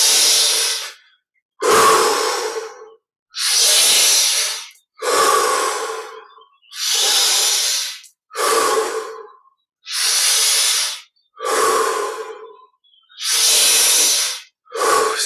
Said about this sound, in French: on augmente progressivement l'amplitude de la respiration